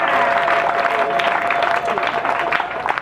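Applause from wedding guests greeting the MC at a traditional Kenyan wedding ceremony, dense and steady for a few seconds, with a tone and some voices mixed in.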